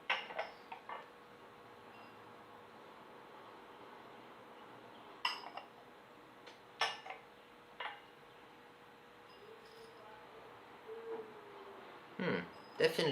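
Ball-rolled oolong tea being shaken in a lidded gaiwan: several light, brief porcelain clinks and rattles come in small clusters, close and fairly soft against a quiet room hum.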